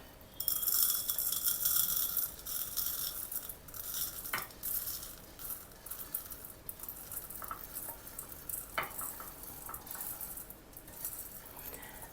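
Freshly dry-roasted curry spices and powders tipped from a hot pan into a bowl, giving a steady close scraping, stirring rustle with a couple of sharp clinks of utensil on metal midway, no talking.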